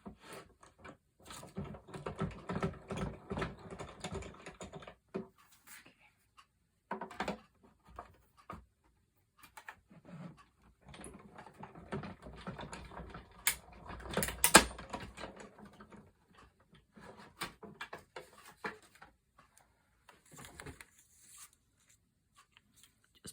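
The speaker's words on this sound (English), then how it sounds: "And then it doesn't move when I'm putting it through the machine here." A gilded leafing machine runs as a flower stem is fed through, giving bursts of light clicking and rattling mechanical patter separated by short pauses.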